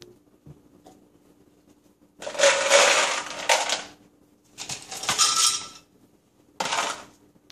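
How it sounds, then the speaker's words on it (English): Three bursts of ice cubes rattling and clattering into a blender, loud and crunchy, separated by short quiet pauses. "Take a cup and fill it with ice and pour it into the blender."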